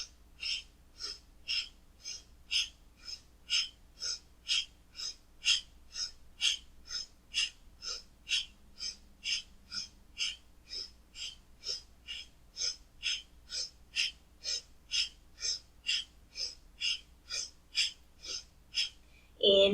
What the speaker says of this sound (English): breathing through the nose if you can, in and out in a steady rhythm for about 20 times